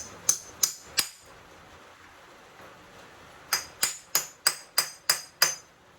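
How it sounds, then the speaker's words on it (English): Sharp metallic hammer strikes on a small brass end fitting: three quick blows, a pause of a couple of seconds, then seven more in a steady rhythm, close and ringing. "So let me hit that thing with a hammer."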